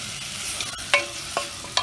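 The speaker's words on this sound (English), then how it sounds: "After add tomato, I stir it." Tomato frying in a pan for a potato curry, a soft sizzle under a few distinct scraping strokes of a spoon against the pan.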